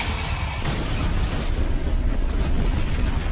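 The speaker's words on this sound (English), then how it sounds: "The resulting spark ignites the deadly mix of fuel and air. Disaster strikes. The explosion blows out one of the inner panels." Aircraft fuel tank explodes in a documentary reconstruction of TWA Flight 800, a loud, sustained roaring blast that fills the entire stretch without letup.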